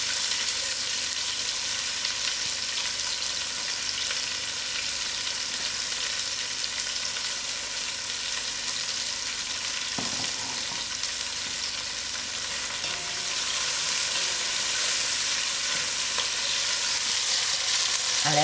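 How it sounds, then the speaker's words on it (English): Onions frying in oil in a pot for a mutton biryani, a dense, even sizzle holding steady throughout and swelling slightly louder toward the end, with a faint knock midway. "I'll allow these onions to fry out for a few minutes."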